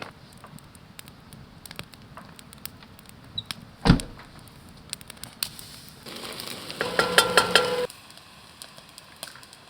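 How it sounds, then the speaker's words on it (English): Chili with diced jalapeno and red onion being stirred in a tight pot outdoors, a loud scrape near four seconds, then a couple of seconds of busier clanking and rustling stirring. "then give it a little stir"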